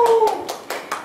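A small audience clapping hands during a talk, heard as a few sharp, separate claps spaced out over about a second, fairly close and distinct.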